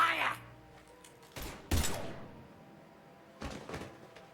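Gunfire in the Mass Effect 3 video game: several short, separated bursts of shots and impacts, loud and sharp, with a voice briefly present near the start.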